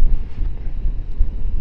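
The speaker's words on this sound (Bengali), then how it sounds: "এমন হাওয়া দিচ্ছে, পুরো একদম নড়িয়ে দিচ্ছে হাওয়াতে" Strong mountain wind on the road to Nathang Valley in East Sikkim buffets the microphone with a loud, continuous rumbling roar and gusty surges.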